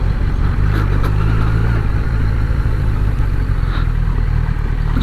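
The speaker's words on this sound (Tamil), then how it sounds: "அச்சோ, நிறைய வண்டி வந்திருக்கா." Many vehicles on a busy road during a Sunday motorcycle ride on the ECR, a constant loud rumble of engines and passing traffic with no talk.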